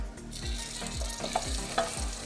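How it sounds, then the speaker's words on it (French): Butter is stirred into hot caramel for salted-butter caramel, giving a steady frying sizzle with rhythmic scraping strokes about every half second, close and moderately loud, with no talking. "on ajoute notre beurre"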